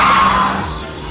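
Car tires skid during a chase, a loud squeal that starts sharply and slowly fades over about a second, with rumbling noise beneath it.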